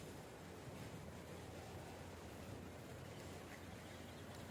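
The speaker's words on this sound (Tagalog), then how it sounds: "Ito po yung tabi ng karagatan." Ocean waves at the seaside in Keelung, Taiwan, a constant broadband wash of surf mixed with wind noise buffeting the microphone, steady and unbroken with no talking.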